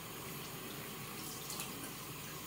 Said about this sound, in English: cold water tap.